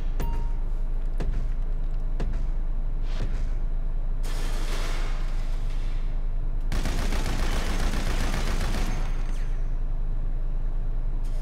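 Light machine gun fire on a shooting range in Grand Theft Auto V, with scattered single shots early and then two long, loud sustained bursts of rapid automatic fire.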